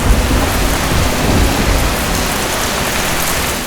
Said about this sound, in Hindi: तभी अचानक भारी बारिश शुरू हुई।